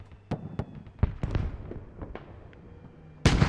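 Sharp explosions and scattered gunfire in a Squad battle near an M60 tank, a series of crisp separate bangs at uneven intervals ending in a loud close blast, with an anti-tank grenade among them.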